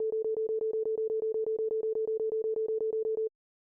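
Arturia Pigments 6 synth notes fired by its sequencer at 16ths, 123 BPM: a steady, even stream of short identical pitched pulses, about twenty in a row, clean and alone before stopping abruptly.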